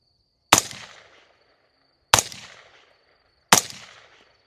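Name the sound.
gunshots from an AR rifle, 5.56 with Acheron LTX suppressor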